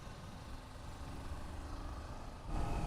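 Kawasaki Z400 motorcycle engine droning steadily while being ridden in fifth gear at low road speed, a faint continuous hum with a slight rise in low rumble near the end, no talking.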